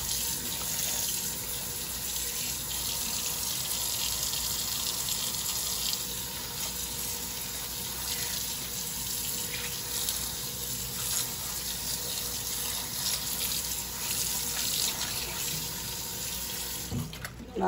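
Cilantro is washed under a running kitchen tap, a steady close gush of water splashing into the sink that continues unbroken for the whole stretch.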